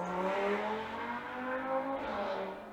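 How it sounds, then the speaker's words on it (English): Cars passing outside a room, a steady engine roar with a rising and falling pitch as vehicles go by, fairly loud and continuous, with no talk. "Again with the noisy cars."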